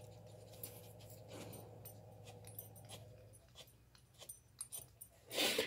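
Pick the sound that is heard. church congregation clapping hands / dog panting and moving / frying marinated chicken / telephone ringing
dog panting and moving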